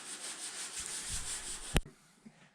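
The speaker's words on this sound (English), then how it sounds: "we're just sanding the box down" Continuous close rubbing of sanding on the steel box of a 1952 Ford F1 truck, steady strokes with a sharp knock near the end, then quiet.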